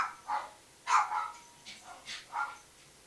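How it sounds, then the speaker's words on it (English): Puppies bark indoors at home, giving about five short, sharp yips in quick bursts, somewhat distant and fairly faint, with no talking. "The puppies are going ballistic here."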